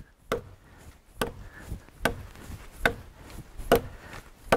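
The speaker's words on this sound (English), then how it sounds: "Would you imagine taking your butcher knife out and chopping a log in two?" A butcher knife chopping through a hardwood log, with six sharp, evenly spaced blows about a second apart, close and crisp against a quiet background.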